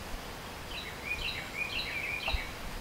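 A faint bird trills a series of thin, high chirps in a short phrase, somewhat distant over a soft background hiss.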